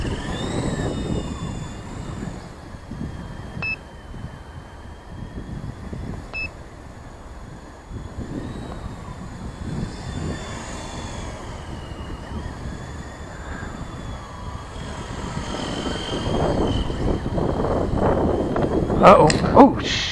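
A WLToys V913 RC helicopter flies outdoors in high wind, its thin whining rotor and motor tones rising and falling steadily over gusty wind rumble, with someone talking throughout and a louder surge near the end.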